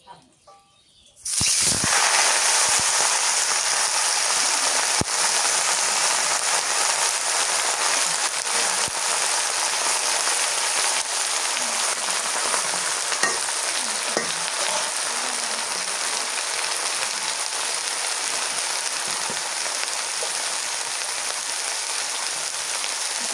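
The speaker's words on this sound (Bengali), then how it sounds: "এই তেলের মধ্যে শাকটা দিয়ে দিই।" Leafy greens dropped into hot oil burst into a loud, dense sizzle after a second of quiet, then crackle steadily and close up for the rest of the stretch.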